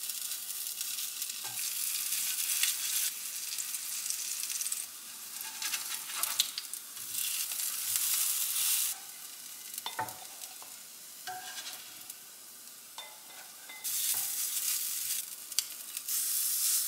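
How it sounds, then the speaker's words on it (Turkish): Vegan köfte fry in a hot pan with a steady, quiet hiss of sizzling oil that swells and fades in waves, punctuated by occasional small pops and utensil taps. "Şimdi tavamı ısıtıp köftelerimi pişireceğim."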